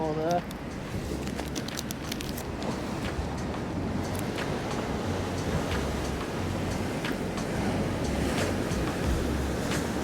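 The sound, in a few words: waves coming in on the shore while sea fishing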